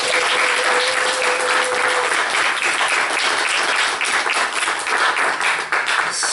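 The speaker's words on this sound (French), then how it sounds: "permettez-moi de vous demander une fois de plus d'applaudir Madame" Sustained applause from an audience at a formal event, dense and steady clapping throughout with a brief tonal hum early on.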